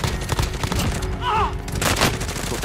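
Rapid bursts of gunfire in the video game Warzone, including the Grau 5.56 rifle: clustered loud cracks at the start and again near the end, with a brief electronic chirp in between and a player's voice talking over it.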